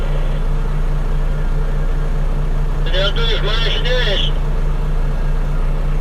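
A bulldozer's diesel engine rumbles steadily at close range, a constant low drone that carries under someone talking and never drops out.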